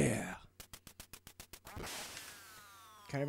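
Duck Hunt video game: a rapid burst of about ten evenly spaced duck quacks, framed by the game's louder electronic sounds and a descending tone before and after.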